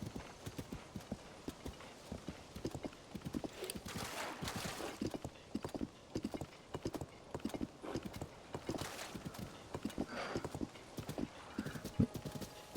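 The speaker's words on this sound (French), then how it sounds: "Il y a du cheval." Horse hooves clip-clopping in The Legend of Zelda: Tears of the Kingdom, a steady rhythmic gallop of close, crisp hoofbeats with a brief whinny partway through.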